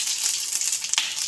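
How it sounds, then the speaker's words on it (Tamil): Whole spices, namely cinnamon, fennel seeds, cumin, cardamom and cloves, fry in hot oil with a brief, bright sizzle and crackle, plus one sharper pop near the end. "நல்லா பொரிஞ்சிடும்."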